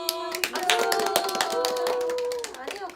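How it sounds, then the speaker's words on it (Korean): Hands clapping briskly in a short burst of applause from a small group, with voices chattering and laughing over it. "박수."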